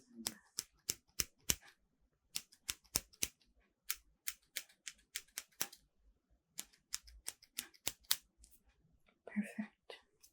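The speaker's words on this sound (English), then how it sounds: "I'm just gonna trim it. Right. I go in with my scissors." Crisp scissor snips close to the ear trimming hair, a quick run of sharp cuts in irregular bursts with brief pauses, soft breathy sounds now and then.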